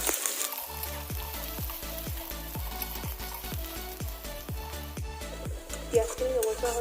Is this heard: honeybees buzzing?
no